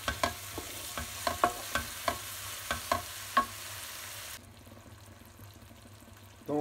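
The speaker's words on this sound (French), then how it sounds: "on peut ajouter les tomates et un petit peu d'eau et refaire revenir pendant 5 minutes" Onions, spices, tomatoes and a little water sauté in a pan for palak paneer, a soft steady sizzle broken by a series of regular stirring scrapes, close and moderate, then the sizzle drops quieter as the stirring stops.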